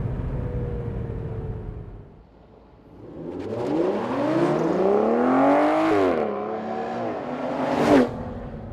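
A 2014 Aston Martin Vanquish engine dips to a brief lull, then accelerates hard with rising, climbing revs through gear changes, a loud sweeping roar that swells and peaks before settling.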